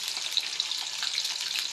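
Cut potatoes frying in well-heated oil with a touch of turmeric, giving a steady, even sizzle with small crackles throughout, close and moderately loud, no voices.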